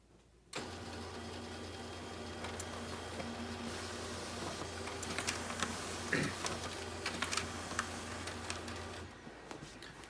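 An HP LaserJet 2035 printer runs a page: a steady motor hum starts abruptly, overlaid with clicks and ticks of paper feeding, then cuts off after about eight seconds, fairly faint and without talk.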